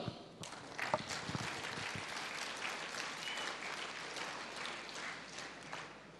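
Audience applause at a team business meeting, a steady crowd of clapping hands sustained for about six seconds, fairly close and dense, with no talk over it.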